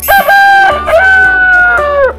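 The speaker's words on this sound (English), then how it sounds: "Chicken." A loud, close chicken call, a drawn-out rooster-like crow with a couple of breaks, heard alone.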